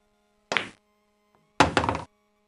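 Pool balls collide in the Sierra Sports GameRoom pool video game, two separate sharp clacks about a second apart, clean and close, with no talk.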